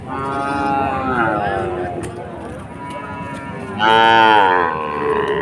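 Several long, loud cow moos ring out close by at a livestock market, one rising strongly near the end, amid a noisy open-air background.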